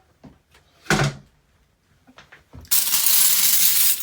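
Metal spoon bowls spill out of a rock tumbler with a loud, bright, sustained clatter during the final second and a half, after a few scattered knocks and thumps.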